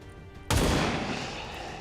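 A single soldier's gunshot in XCOM 2, one sharp loud crack after brief quiet, followed by a long rumbling decay that fades slowly.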